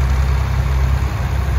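A 1967 Allis-Chalmers D21 tractor engine idling at an antique tractor and steam engine show parade, a steady, loud, deep low rumble held evenly without a break.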